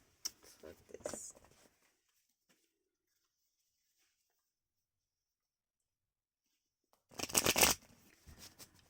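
Tarot cards get a couple of quick riffle shuffles with a pause of near silence between them. The two bursts of papery flutter are close and fairly soft, and quiet speech comes before the first.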